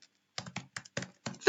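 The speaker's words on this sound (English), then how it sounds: "Typing it right now." Bursts of keystrokes on a computer keyboard, clustered in quick irregular groups with short pauses between them, close and fairly quiet with no talking.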